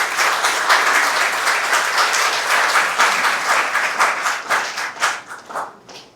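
Loud, dense clapping from a large audience at a ceremony, sustained and even before thinning into fewer, separate claps that trail off at the end.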